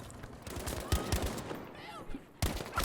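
FG42 automatic rifle bursts crack in a Battlefield V 5v5 squad conquest match, short sharp volleys scattered across a few seconds amid other battle noise, with a caster talking over them.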